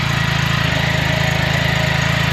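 Car engine idling after a primary muffler delete pipe install, a loud, steady, close rumble with an even pulsing throb and no voices.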